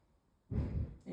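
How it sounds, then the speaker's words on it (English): A short nasal inhale during a relaxation stretch, soft and close, rising abruptly after a near-silent pause and lasting about half a second, with a faint second draw of air at the end. "Breathing in for a 5 count through the nose."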